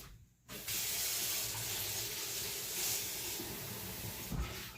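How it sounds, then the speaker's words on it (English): Kitchen tap running cold water, switching on after a short silence and then pouring steadily and close by, a constant splashing hiss into the sink. "let me get some cold water for you"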